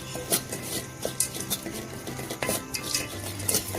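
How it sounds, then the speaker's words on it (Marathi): Rice being stirred and roasted with fried dry fruits in a pan for sweet rice kheer, giving close, quiet scrapes and light metallic clinks of a spoon against the pan. "आता आपण जे फ्राय केलेले ड्रायफ्रुट्स होते ते आपण टाकून द्यायचे आणि भाजून घ्यायचे"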